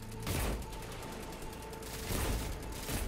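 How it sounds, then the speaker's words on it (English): Cabal forces firing at the Vex in Destiny 2, a continuous stream of distant rapid shots with louder bursts at the start and near the end, no talk. "So they're actually shooting at the Vex up here."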